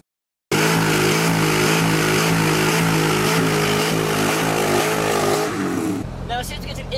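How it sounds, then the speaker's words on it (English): A big-block-sounding V8 in a 2007 Chevrolet Corvette C6 bursts into a loud, sustained roar during a burnout. It holds at high revs for several seconds, then drops off sharply into a quieter rumble. "Let's go do some burnouts."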